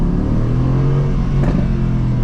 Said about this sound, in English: AMG never ceases to amaze with the exhaust.